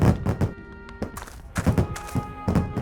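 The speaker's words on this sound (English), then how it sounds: "Sounds like explosions in the stove." Muffled explosions bang inside a stove in The Book of Unwritten Tales video game as a series of dull, close thuds over sustained tonal background sounds.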